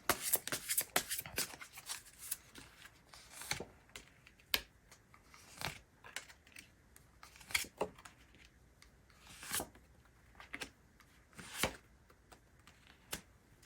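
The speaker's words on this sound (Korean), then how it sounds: "저는 생각하시는 동안 카드를 뽑아보도록 하겠습니다" Tarot cards are drawn and handled, giving a run of quiet, crisp flicks, slides and snaps in irregular bursts, with no talk.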